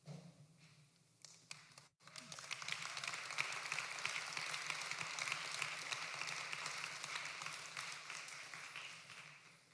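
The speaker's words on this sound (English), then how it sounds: "Thank you very much for your early applause" Steady audience applause swells after a brief break and holds at a continuous, moderately distant level, many hands clapping in a dense wash without speech.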